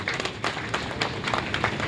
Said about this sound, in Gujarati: ખૂબ બધી તાળીઓ આપણે વ્યક્ત કરીએ છીએ